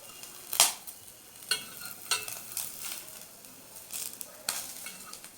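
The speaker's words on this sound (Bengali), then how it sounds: "দেখো, আমার হাফ চামচ তেলে কত সুন্দর মাছ ভাজা হয়ে গেছে" Small whole tangra fish fry in half a spoon of oil in a pan, giving a soft, steady sizzle at close range, broken by several sharp scrapes and clatters as a utensil turns the pieces.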